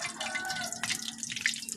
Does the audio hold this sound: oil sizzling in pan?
yes